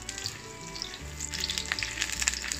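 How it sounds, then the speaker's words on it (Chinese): Shallots sizzling gently in a little oil in a pan over low heat, a close, steady crackle with scattered bright pops and occasional soft scraping, no voices. "再下入小红葱， 来慢火给它爆香"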